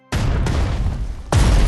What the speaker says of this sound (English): I want all cannons firing on that target.